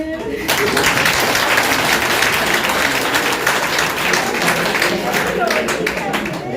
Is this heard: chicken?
no